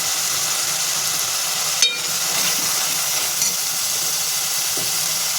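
Asafoetida drops into hot oil with well-fried masala for stuffed bitter gourd, giving a steady, close sizzling hiss with one brief pop partway through.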